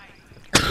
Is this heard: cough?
yes